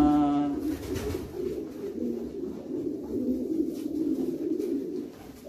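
A blue bar racing pigeon, a long and medium distance breeder hen, coos in soft low repeated throaty rolls, close by and steady, with faint background noise and no talking.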